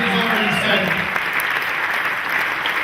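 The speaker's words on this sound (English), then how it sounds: "Big applause for Lee Williams." Steady, dense audience applause at a British country music hall of fame awards ceremony, sustained and fairly loud throughout, with a voice faintly under the clapping at the start.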